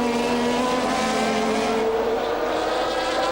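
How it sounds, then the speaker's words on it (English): Formula 1 cars from 1988, McLaren Honda, Ferrari, Williams Judd and Lotus Honda, pour through at the Brazilian Grand Prix, a dense continuous roar of several high-revving engines blending together at a distance. "Warwick, Satoru Nakajima, Eddie Cheever and the rest of the field pouring through"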